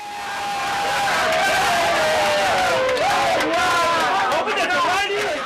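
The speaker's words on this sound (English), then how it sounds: "The crowd starts screaming" A large crowd of spectators at a marathon finish screams and cheers, a loud sustained roar of many voices that swells and wavers with rising and falling shouts, filling the scene throughout.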